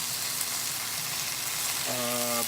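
Marinated quail sizzling on a grill as the pieces are flipped, a steady close crackling hiss throughout with a brief tonal whine near the end.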